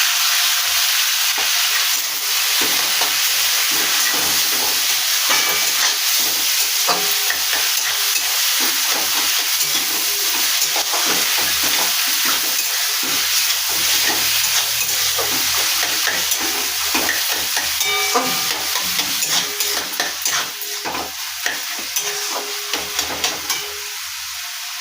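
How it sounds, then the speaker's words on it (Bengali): Vegetables with peas and turmeric frying in a pan while being stirred, a continuous close sizzle with scraping and clattering of a spoon that thins out toward the end. "আমি একটু নাড়াচাড়া করে নেব।"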